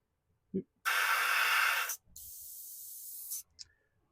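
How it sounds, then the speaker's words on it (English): Two long bursts of white spray paint hiss, the first louder and about a second long, the second steadier, with a short puff between them, while painting a model railway signal box. "And I'm just going to spray white onto them."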